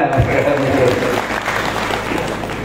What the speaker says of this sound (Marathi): टाळी वाजवून बघा